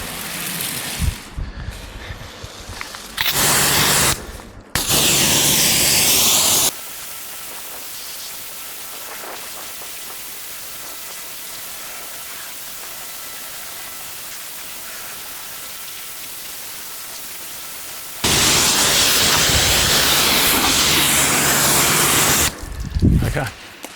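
A pressure washer sprays water onto a Hyundai i20 during a wash, loud hissing blasts in several separate bursts of a few seconds each, with a long, quieter stretch of steady spray between them.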